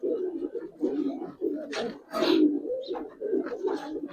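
Giribaz pigeons coo in low, repeated throaty bursts, close to the microphone, with brief rustling and clattering between the calls.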